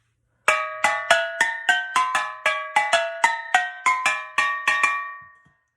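A melodic run of about fifteen ringing metallic notes struck in a quick, even rhythm on a steel drum, each note bright and briefly sustained.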